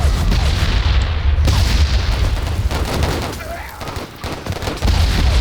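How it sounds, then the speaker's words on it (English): A grenade blast in the war video game Warfare Legacy, a loud boom layered into dense continuous battle noise of gunfire and explosions, with a voice speaking over the action. "Okay, we got a grenade off."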